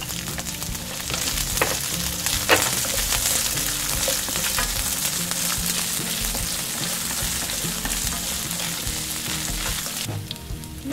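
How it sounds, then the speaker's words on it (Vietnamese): Sliced onion and garlic stir-fry in hot oil for tteokbokki, giving a loud, continuous close sizzle broken by a few scraping stirs, with no talking. "Khi tỏi đã vàng thơm rồi thì mình sẽ cho hành tây vào xào cùng."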